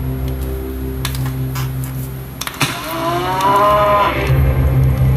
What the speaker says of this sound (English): Until the Browns were able to construct a safe shelter for their cow Sabrina